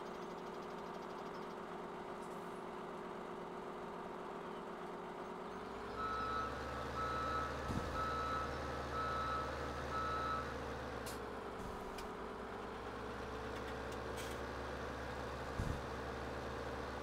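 Truck reversing beeps in Farming Simulator 17: a steady series of evenly spaced beeps sounds over a low, droning truck engine, with a brief air-brake hiss and a few clunks.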